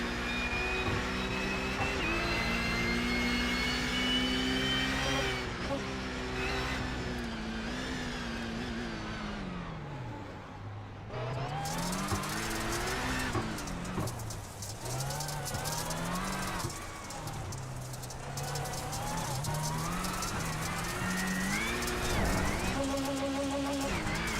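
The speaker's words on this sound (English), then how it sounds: "Let's ride on board Kieran for a lap as we enjoy the sights and sounds here in Indianapolis." A rallycross car lapping the circuit at Indianapolis, heard from onboard: loud, close engine revving that rises and falls through repeated acceleration and gear changes, with a brief dip mid-lap, and faint voices in the background.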